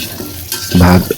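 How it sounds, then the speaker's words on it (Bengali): Garlic cloves lightly fry in a pan before any oil is added. Stirring scrapes are heard near and loud, then a short burst of sizzling and a final clink. "হালকা ভেজে নিতে হবে রসুনগুলো"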